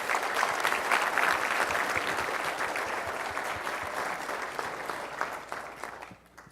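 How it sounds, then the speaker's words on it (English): Sustained audience applause at an awards banquet, a dense steady wash of many hands clapping that holds for several seconds before tapering off at the end. "Can we get a round of applause again for our amazing competitors"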